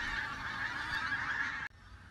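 Greater white-fronted geese honking in a dense, continuous chorus of overlapping calls from a large flock, steady and moderately loud before cutting off abruptly near the end.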